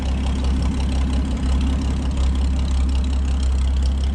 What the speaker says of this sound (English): Row crop farm tractor, not a substitute for a zero-turn lawnmower.